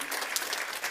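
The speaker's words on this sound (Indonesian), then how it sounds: "Boleh tepuk tangan." Church congregation applauding during a sermon, a steady, dense wash of clapping hands lasting the whole moment with no voice over it.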